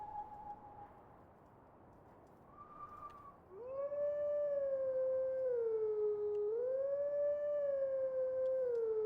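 A howling stone in Zelda: Twilight Princess sounds a short wavering tone, then after a pause a long sustained howl-like melody swells in, loud and continuous with gentle pitch bends.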